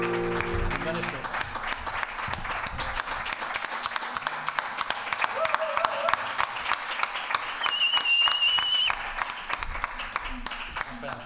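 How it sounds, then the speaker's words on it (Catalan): An audience bursts into sustained applause, a dense patter of many hands clapping at an even level for several seconds, with a faint voice and a brief tone partly audible beneath it. "Un aplaudiment per a José Luis Faulí, per favor."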